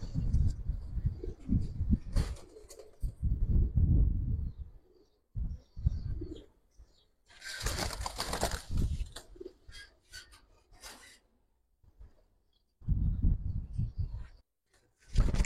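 Trained Giribaz pigeons are released in an outdoor flock, with soft coos and scattered chirps coming in bursts amid background rustle.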